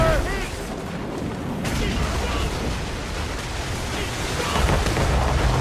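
Naval cannon fire from ships in the video game Assassin's Creed Rogue, heavy rumbling booms rolling continuously under a dense battle din with shouting voices throughout.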